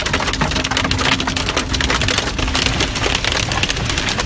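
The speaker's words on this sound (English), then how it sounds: "another afternoon blast of pelting rain" Heavy pelting rain pours down in a Sydney storm, a dense loud continuous hiss of drops battering surfaces close by, with a faint steady hum underneath.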